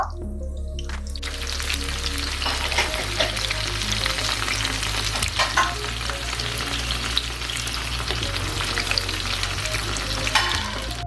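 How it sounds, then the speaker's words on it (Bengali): Shrimp and chicken pieces frying in hot oil until golden, a loud, continuous crackling sizzle with occasional stirring scrapes and pops. "এখন আমি এই চিংড়ির আর চিকেন গুলোকেও আমি একদম গোল্ডেন কালার করে একটু ভেজে নিব।"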